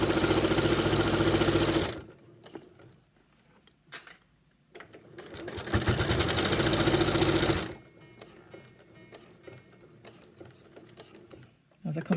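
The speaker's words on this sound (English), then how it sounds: "So I'll just do a little back stitch there as well to just secure that front pocket where the laptop's going to go." A sewing machine back-stitches the front pocket of a laptop case in two loud bursts of rapid mechanical stitching, separated by quieter pauses with some handling sounds.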